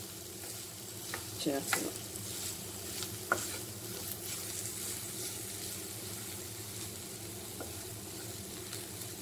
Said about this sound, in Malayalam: എന്നിട്ട് ഇത് നല്ലവണ്ണം ഉടച്ച് മസാലയുമായി